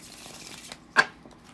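Tarot cards are shuffled in one short, crisp riffle near the middle of an otherwise quiet stretch, close and moderately loud.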